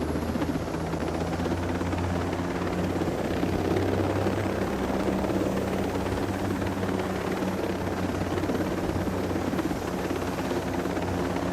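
A helicopter in Tom Clancy's Ghost Recon Breakpoint flies steadily, its dense rotor and engine roar loud and continuous throughout with no talking.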